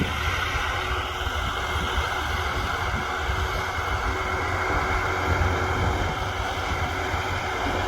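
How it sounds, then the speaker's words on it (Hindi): Steady, loud broadband rumble of a tractor with an AC cabin pulling a cultivator across a farm field, continuous and close with no distinct changes and no talking. "ट्रैक्टर देखो कितने मजे में चल रहा है"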